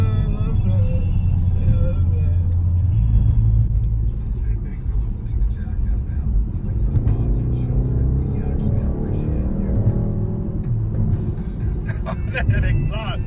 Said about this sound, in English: That exhaust is killer, man. So crazy. That's just in sport mode.